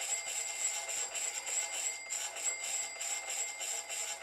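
Trading platform alert bell ringing in a steady repeated pattern of bright, rapid chimes, clear and continuous with no talk over it.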